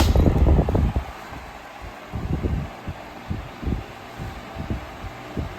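A 1990s Home-Line 16-inch oscillating fan running on high, a steady close whir of the blades with a rhythmic low throbbing and faint rattle from the gearbox, loud at first and then settling into repeating pulses.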